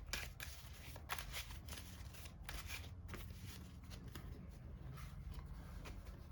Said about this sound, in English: shuffling up for test hand number 2